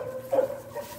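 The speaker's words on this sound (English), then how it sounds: "He's a herding dog, so that's why he barks a lot." A single short bark from a herding dog, fairly near, over a low steady background hum.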